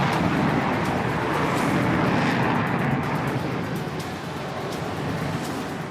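A 13-ton F-16 fighter jet flying a Solo Türk aerobatic display at a Republic Day ceremony, heard as a loud continuous jet roar that fills the whole stretch, slightly easing toward the end, with no voices.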